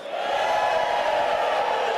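A church congregation erupts in loud, sustained shouting and cheering, a dense crowd roar that holds steady for about two seconds with no single voice standing out.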